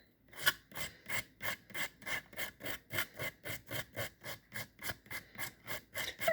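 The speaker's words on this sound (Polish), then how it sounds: "Top piłujemy, właśnie ja piłuję 80 klinikiem." An 80-grit file rasps off the hybrid gel top coat on a single fingernail in steady, rhythmic back-and-forth strokes, about three per second, close and clear with no talking.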